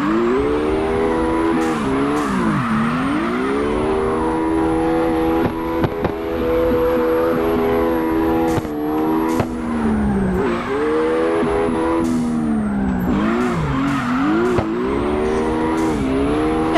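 A Nissan 370Z drifting in CarX Drift Racing Online, its engine revving loudly and swinging up and down through gear changes while a thin, high tire squeal runs almost constantly on top.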